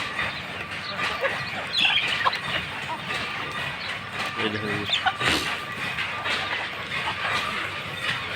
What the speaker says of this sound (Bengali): সব মুরগিগুলো দেখছেন খুব সুন্দর আছে